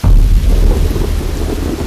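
A deep thunder rumble rolls over heavy rain in a film scene set in a village in Maharashtra, loudest at the start and then easing into a steady downpour.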